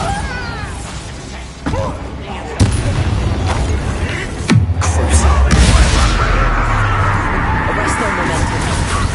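Spell explosions cast during a fight in Hogwarts Legacy: several sharp blasts and crashes, including a heavy boom midway with a deep lingering rumble, mixed with combat effects and a voice speaking over the action.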